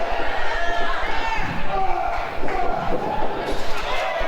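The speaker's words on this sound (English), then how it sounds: "Hammerstone pitched into the steel cage head first as the crowd is cheering" A loud wrestling crowd roars and cheers in an arena during a steel cage match, a dense sustained din with a few thuds and slams from the ring underneath.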